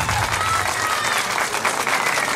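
An outdoor crowd at a karaoke night in a town square applauds to vote on an applause meter, dense continuous clapping, loud and close, with scattered cheering voices mixed in.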